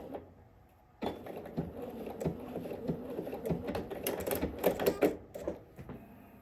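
A sewing machine stitches a sleeve gusset seam, starting with a sudden burst and then running steadily with rapid mechanical clatter and a few uneven surges, close and fairly loud with no voices.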